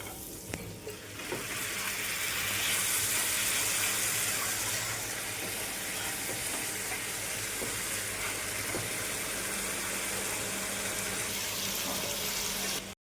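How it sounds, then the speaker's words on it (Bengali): Water goes into a hot cooking pot for a pointed gourd and chicken dish, producing a loud continuous hissing rush that holds steady for several seconds before cutting off abruptly. "আমি এখানে জলটা অ্যাড করে দেব"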